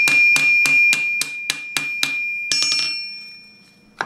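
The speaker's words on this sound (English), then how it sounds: "Tighten the rivet on the other side." A hammer strikes a rivet on steel armour gauntlet plates, eight evenly spaced ringing metallic blows followed by a rapid flurry of lighter taps, close and bright with a lingering tone.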